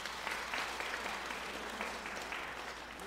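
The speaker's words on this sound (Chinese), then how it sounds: "我们也拍手一下" A church congregation claps together during a Sunday worship service, steady dense applause filling the room at moderate level throughout, with no talk over it.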